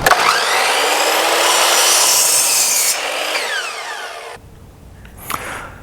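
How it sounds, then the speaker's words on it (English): A power saw rips loudly through a wooden vertical brace for garage storage racks, one steady cut lasting a few seconds before the blade winds down and quiets. "right now we're just going to cut the vertical braces."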